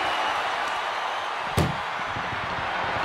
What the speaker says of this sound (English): Look at the struggle just to shut that first door.